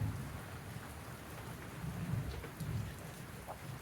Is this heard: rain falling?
yes